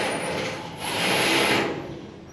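A power drill runs steadily in a single whirring burst that swells and fades over a couple of seconds, heard nearby inside a messy metal-walled interior.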